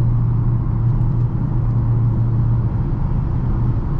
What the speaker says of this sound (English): let's try doing a little tiny acceleration in track mode here